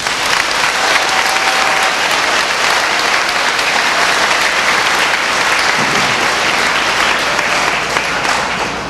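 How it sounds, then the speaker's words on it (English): Sustained, loud crowd applause at an 8th grade graduation ceremony for the graduation marshals, dense steady clapping filling the hall without a break. "Give them a round of applause, please."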